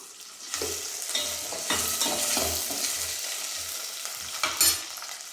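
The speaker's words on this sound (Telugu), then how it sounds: "పోపు అంతా కూడా వేయిపోతూ ఉంటుంది" Onion and dried red chillies sizzle in hot tempering oil, a steady crackling fry broken by repeated low thuds and scrapes of stirring, close and fairly loud with no talking.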